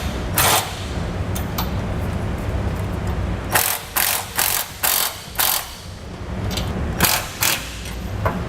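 A ratchet tightens the upper plate bolts of an Air Lift LoadLifter 5000 rear air helper spring, clicking steadily at first, then in a run of short, loud, evenly spaced bursts.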